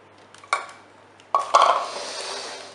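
A foaming sugar and royal icing mixture is stirred with clinks against a bowl, then poured into a container with a short scraping rush, close and clear in a quiet kitchen.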